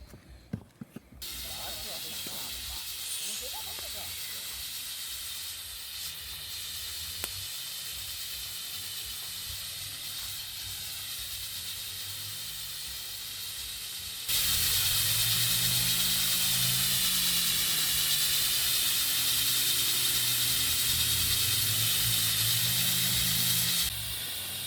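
A pressure cooker hisses steadily while pre-cooking beef ribs on a farm kitchen stove, a continuous high steam hiss that grows louder and fuller partway through, with a low rumbling undertone, no talking.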